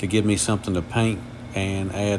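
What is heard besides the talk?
None of the usual background noises is heard.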